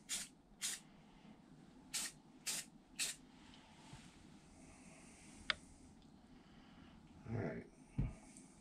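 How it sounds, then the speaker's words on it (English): A rattle can sprays paint onto a Gasboy gas pump part being restored, with five short, close hissing bursts in quick succession, then a few fainter sprays and soft handling noises against a quiet background. "Give it the old rattle can special."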